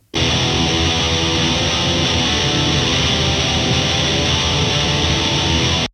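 Heavily distorted hardcore guitar tone from the band's original recording, a dense wall of sound that holds steady and loud for about six seconds before stopping abruptly, with no voices.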